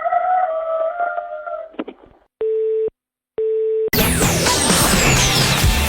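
A rooster crows over a phone line during a live radio prank call, sounding thin and band-limited, followed by two steady busy-tone beeps and then a burst of loud broadband noise.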